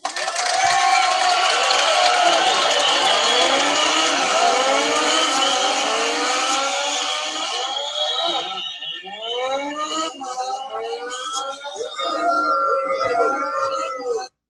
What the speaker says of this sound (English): It's actually a car race, and you just pick one randomly.